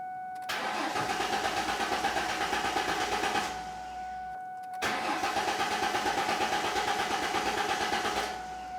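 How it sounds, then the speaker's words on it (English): A 1994-2004 Ford Mustang engine is cranked twice with the fuel pump fuse removed, giving two rhythmic bursts of starter whirring of about three seconds each, close and steady, separated by a short pause, and it never fires. "turn the key, and I want to start it"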